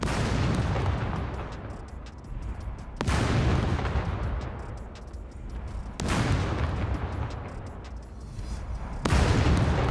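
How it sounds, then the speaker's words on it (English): Gunshots in the survival game SCUM, a handful of sharp reports spaced a few seconds apart, each trailing off in a long echoing decay, heard at moderate distance. "they're shooting a puppet right there, I bet you"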